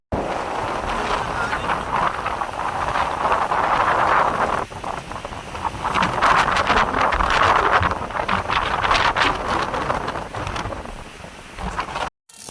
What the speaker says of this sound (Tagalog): Yan kalakas yung hangin.